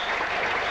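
Jubilant cricket crowd at a 1982 Sri Lanka v England Test match cheering and applauding, a dense, steady wash of clapping and roar filling the whole moment without a break.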